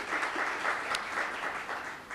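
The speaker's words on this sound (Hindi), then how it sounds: "तालियां।" A summit audience in Gujarat breaks into sustained applause, a dense, steady patter of many hands clapping throughout with no speech over it.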